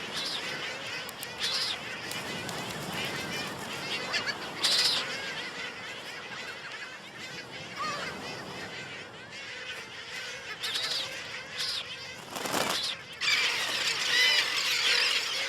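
Shrill, squealing calls from a packed colony of gulls and terns on a small breeding island keep on throughout, layered and overlapping at close range, with louder bursts now and then and no talking.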